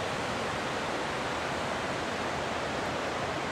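Floodwater of the Big Thompson River churns continuously near a street bridge in Loveland, Colorado, a loud, even hiss and roar of fast-moving water with no voices over it.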